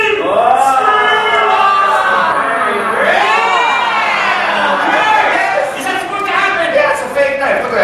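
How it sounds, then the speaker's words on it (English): A theme park crowd screams on cue at a special effects stage show at Universal Studios Hollywood, a loud sustained wall of high shrieks and shouts that rises and falls, with a few voices trailing off near the end. "Scream!"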